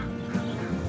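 A Brahma chicken at a pet market gives a short, close clucking call of about a second over low background noise.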